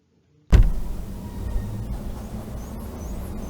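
An assembled industrial part running normally inside a test chamber, a sudden onset followed by a steady, fairly quiet mechanical hum with faint small ticks, no talking.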